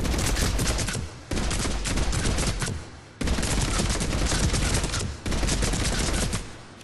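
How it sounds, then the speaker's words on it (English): Revenant assault rifle in Mass Effect 3 firing full auto from the hip at point blank range: three long, loud bursts of rapid fire separated by brief pauses, with no talking. "Point blank range fired from the hip."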